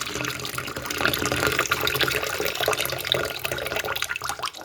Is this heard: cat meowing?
no